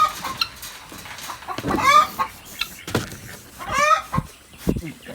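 A hen on a ranch clucks and squawks in two loud bursts, close by, with other chicken chatter and a voice speaking in the background.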